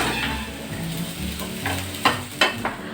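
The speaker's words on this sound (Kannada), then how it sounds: "ಕ್ಯಾಪ್ಸಿಕಮ್ ಮತ್ತು ಆನಿಯನ್ಸ್ನ ಕಟ್ ಮಾಡಿಬಿಟ್ಟು ಅದನ್ನು ಕೂಡ ಫ್ರೈ ಮಾಡ್ತಾ ಇದ್ದೀನಿ" Chopped capsicum and onions frying in a pan for kadai paneer, with a loud close sizzle and the spatula scraping and clacking against the metal several times near the end.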